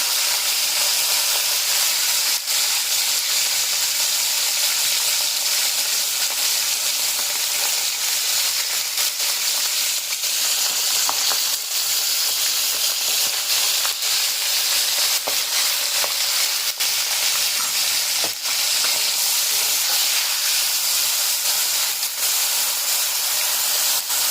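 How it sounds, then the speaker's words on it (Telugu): Dry fish frying in hot oil makes a loud, dense, continuous sizzle and hiss that runs unbroken throughout, with occasional faint clicks and no voices. "ఇప్పుడు ఈ ఆయిల్లో మనం ఈ డ్రై ఫిష్ని బాగా డ్రై చేసుకుంటున్నాం"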